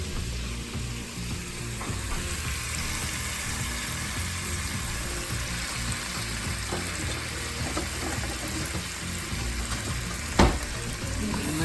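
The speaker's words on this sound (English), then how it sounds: "we're just going to throw all of our veggies in there. We're going to saute those in there" Vegetables sauté in a pan with a continuous, even sizzle and occasional faint stirring, one sharp clatter near the end, close and steady with no voices.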